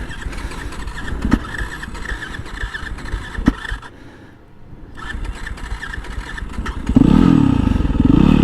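A Husqvarna dirt bike engine runs with choppy, uneven revving and sputtering, drops away briefly, then returns to a louder, steady drone near the end, heard close with no talking.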